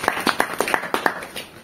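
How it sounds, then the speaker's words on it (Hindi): Sparse clapping from an audience at a business presentation, about ten distinct handclaps in an uneven but steady rhythm, fairly close and moderately loud, with nothing else heard. "ताली बजाओ"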